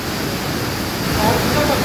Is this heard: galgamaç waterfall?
yes